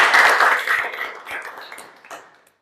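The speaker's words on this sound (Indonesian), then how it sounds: "Tepuk tangan buat kita semua no." A classroom of students clapping together during a physics lesson, a short burst of hand claps that quickly thins out and fades to silence.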